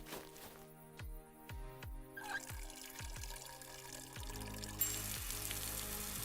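Water poured over plants in Plant Nursery Simulator, a video game, heard as a soft continuous pour running under repeated low game music notes, growing slightly louder toward the end.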